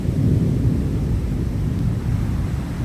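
Thunderstorm rolling through with lightning nearby, a loud low continuous rumble of thunder mixed with wind buffeting the microphone, steady throughout without speech.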